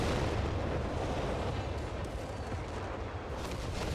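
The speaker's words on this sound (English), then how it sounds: "Here comes the heavy artillery." Heavy artillery barrage in Company of Heroes 3 on the Monte Cavo 4v4 map, a dense continuous roar of booming shell impacts rumbling without pause, loud and with no voices.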